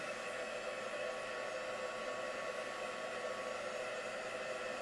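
Hair dryer blowing on a craft project, a steady close whooshing roar with an even whine that runs unbroken and fairly loud, with no talk.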